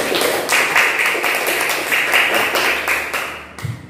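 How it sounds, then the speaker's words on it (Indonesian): Classroom applause during a teaching session, a steady wash of many hands clapping together for nearly four seconds before fading out near the end. "Tepuk tangan untuk kita semua."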